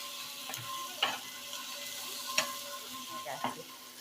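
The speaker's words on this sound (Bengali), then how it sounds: "মশলাটার সঙ্গে আলুটা ভালো করে কষিয়ে নেব।" Pre-fried potatoes cooking with spice paste in a pan, a quiet sizzle under occasional spatula scrapes and taps, low and close with no talk.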